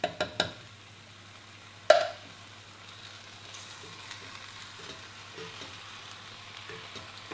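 Tinned tomatoes, a 400 gram tin, being stirred into a frying mushroom and pepper one-pot, with a few sharp clatters early on and a steady soft sizzle underneath.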